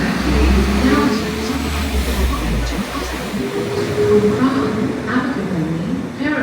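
A passenger train runs from Carmarthen station toward Swansea in Wales, heard from on board. A steady, loud, low rumble of rolling wheels and engine drone continues throughout, with a faint tonal whine.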